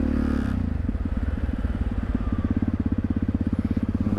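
Motorcycles roll onto a ferry with a loud, close, rhythmic engine thump pulsing steadily, a scraping clatter at the start and no one speaking.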